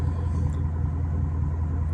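A 2021 Ford Mustang GT Premium muscle car rumbles while driving, a low, steady engine drone that stays close and even for a couple of seconds with no one talking.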